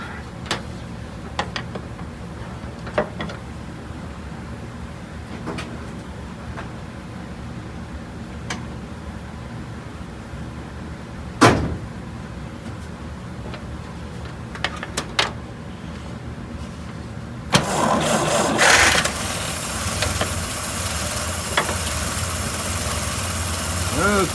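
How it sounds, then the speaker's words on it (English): An air compressor kicks on in a shop where a 1953 Dodge B4B truck is being worked on, a loud steady broadband roar that starts abruptly partway through and drowns out quieter earlier sounds and occasional clunks. "Compressor kicked on and I couldn't hear nothing."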